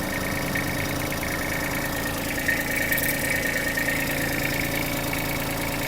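A Hitachi CX-150 mini tractor's small diesel engine idles steadily up close, a constant chugging rumble with a faint rhythmic knock and no voices.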